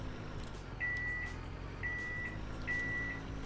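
Reversing alarm on a vehicle backing up in Winter Resort Simulator, three evenly spaced electronic beeps, clear and steady over a low engine rumble.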